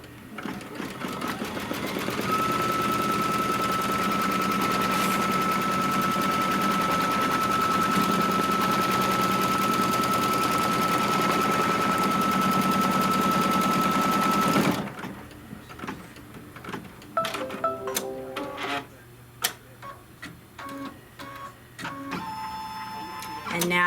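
An embroidery machine stitches down a fabric piece for a mug rug, a loud rapid continuous rattle for about fifteen seconds, then stopping and giving way to scattered clicks and handling noises.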